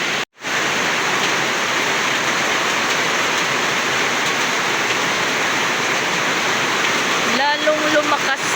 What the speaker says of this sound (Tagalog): Umulan naman.